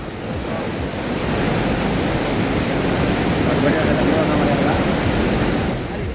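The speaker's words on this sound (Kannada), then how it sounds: "ನಿರಂತರ ಮಳೆಯಿಂದಾಗಿ ಚಾಮರಾಜನಗರದ ಭರಚುಕ್ಕಿ ಫಾಲ್ಸ್ ಹಾಲ್ನೂರಿಯಂತೆ ಧುಮ್ಮಿಕ್ಕಿದೆ" Bharachukki Falls in Chamarajanagar, swollen after continuous rain, gives a steady, dense roar of rushing water that holds constant throughout, close and loud, with no talking.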